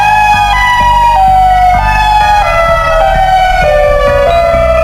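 Loud EOWS 612 electronic emergency siren wailing continuously, its tone stepping down in pitch in slow stages with a low rumbling undertone, no voices.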